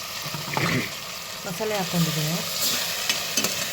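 Tomatoes and masala frying in a pan: soft sizzling under intermittent stirring and scraping, with a voice talking over the cooking sounds.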